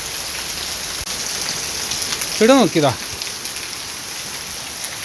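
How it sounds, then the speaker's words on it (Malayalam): Heavy monsoon rain falls in Madikeri, Coorg, a steady hiss of rainfall throughout while someone speaks briefly in the middle. "എന്നാലും നല്ല മഴ"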